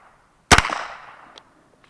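A single sharp, close crack from a .22 LR rifle, followed by a short decaying echo and faint distant ticks.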